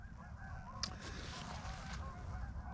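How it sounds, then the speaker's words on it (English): A few faint honks from geese passing overhead rise briefly over a steady outdoor rumble, distant and intermittent. "We've got some geese flying. I don't know if you can hear them."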